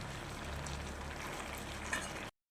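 Fish pieces go into a pot of curry already simmering, producing a soft, steady bubbling sizzle that runs for about two seconds and then cuts off.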